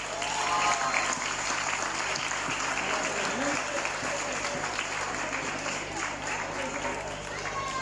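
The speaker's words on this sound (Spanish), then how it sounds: "Un fuerte aplauso para Pablo una vez más," A live audience at a parody comedy show bursts into sustained, fairly dense applause, with cheering voices mixed through it, for the full eight seconds.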